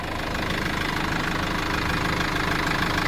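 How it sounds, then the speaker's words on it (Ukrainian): A 2016 Renault Master van's 125 hp diesel engine idles steadily with a low, even mechanical rumble and faint knocking clatter, close and continuous with no talk. "Так, мотор працює, все без проблем."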